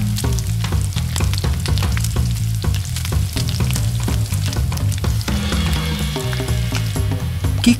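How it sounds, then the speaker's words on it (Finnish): Seafood sizzles and fries loudly in a hot wok, with steady crackling and occasional stirring scrapes throughout, no voices. "On erittäin tärkeää paistaa merenelävät lyhyesti ja nopeasti, jotta ne ovat edelleen läpikuultavia sisältä."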